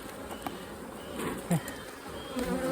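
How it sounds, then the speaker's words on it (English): Honeybees buzz around an open hive during a fall inspection on an overcast day, a steady soft insect drone with a few louder passes close to the microphone. "This hive is, I'd say, more aggressive than the last hive. They're definitely spending more time around me"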